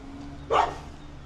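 A dog gives a single short, sharp bark on a city street, close and clear over low background hum, with no voices during the bark.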